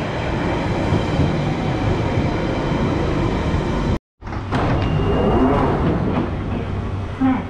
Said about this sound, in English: This is a Central Line train to Epping.